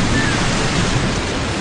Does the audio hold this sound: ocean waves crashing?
yes